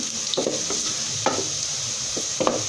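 Beans frying in a pan, a steady close sizzle with occasional stirring scrapes and clinks of a utensil against the pan.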